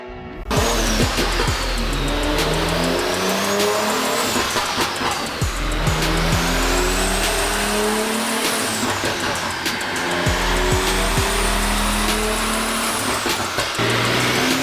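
Manual BMW G80 M3 fitted with an RK single turbo kit, revving hard on a dyno: loud sustained engine roar rising and falling through repeated pulls, with whining pitch sweeps and brief drops between runs.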